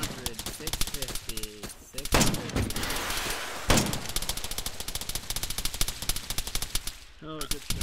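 Heavy gunfire in the military shooter Arma 3: dense automatic bursts and sharp individual shots pound close and loud almost throughout, with players talking over the shooting at moments.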